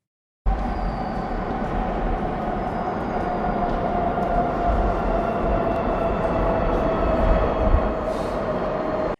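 A Doha Metro train in Qatar rolls along with a steady, loud rumble and a faint whine, continuous from start to finish with no talking.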